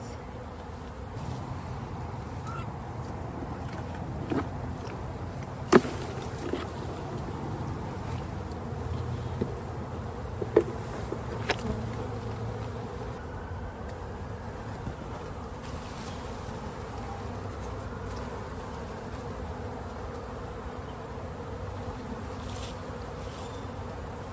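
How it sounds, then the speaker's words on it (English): Big honeybee swarm moving into a hive box outdoors, a dense continuous buzz of many bees holding steady throughout, with a few faint knocks and clicks close by. "This is a good hive, a nice big swarm. And they are steadily making their way into the box."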